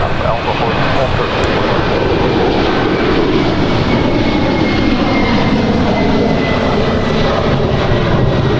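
A Virgin heavy jet powers up for takeoff on runway 24 left at Los Angeles International Airport, a loud, steady engine roar filling the whole stretch with a broad rumbling wash, while radio voices talk over it.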